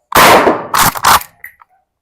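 Gunfire at an outdoor shooting range: one sharp, loud shot, then a quick pair of shots close behind it, each followed by a short ringing tail and faint metallic pings.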